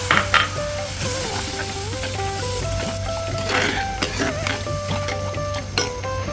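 A spoon stirs and sautés a Kerala fish curry base with tamarind in a pan, with soft scraping and clinking over a low sizzle, set against steady background tones.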